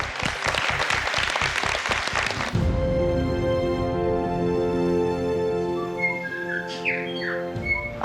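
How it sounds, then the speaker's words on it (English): Birds chirp and whistle outdoors in Wellington, New Zealand, with a few short, bright calls rising over light background noise after an opening burst of clapping. "Oh, you can hear the birds?"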